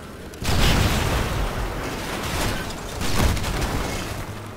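In Red Faction Guerrilla, a heavy explosion bursts in with a loud boom, followed by rumbling debris and a second swell of blast noise, dense and close.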